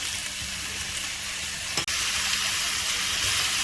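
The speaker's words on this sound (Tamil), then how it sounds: "இது கொஞ்சம் நல்லா வதங்கின உடனே நம்ம சீரகம், பூண்டு ரெண்டுத்தையும் போட்டுடலாம்." Cumin seeds and garlic fry in hot oil in a pan for a coconut mango chutney, giving a continuous close sizzle with a single sharp clack partway through.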